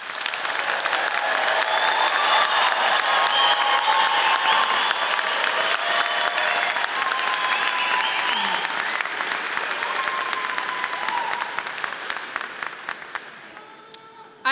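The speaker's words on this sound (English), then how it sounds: "Please join me in a round of applause as we congratulate today's graduates." A large audience applauds graduates at a Colorado State University Graduate School commencement ceremony, with dense, steady clapping that holds for most of the stretch before gradually thinning out near the end.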